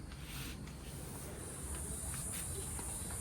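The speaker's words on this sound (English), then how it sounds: "you can hear the gorgeous cicadas" Cicadas chirp outside a balcony at the Marmaris Bay Resort in Turkey, a constant high buzzing drone that carries steadily throughout at a distance, with no other prominent sounds.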